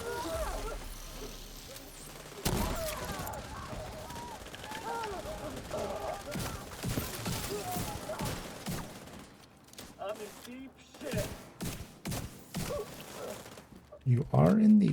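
A fire cannon in a video game booms amid dense rapid gunfire and explosions, loud and continuous before thinning into scattered blasts, and a voice talks over it.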